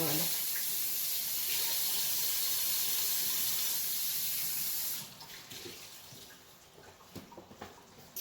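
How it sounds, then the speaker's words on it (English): Kitchen tap runs water to fill a container for sauce, a steady close hiss of flow for about five seconds before it is shut off, followed by quieter handling clatter. "so we're going to get some water for our sauce"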